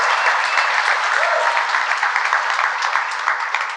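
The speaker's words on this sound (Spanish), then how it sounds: "quiero que le des un fuerte aplauso al Rey de Reyes y Señor de Señores." A church congregation claps loudly in a dense, steady burst of applause that carries on throughout, close and full with no talking over it.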